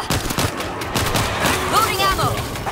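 Rapid gunfire bursts in the World War Z video game, mixed with game effects and a brief rising electronic tone, loud and dense throughout.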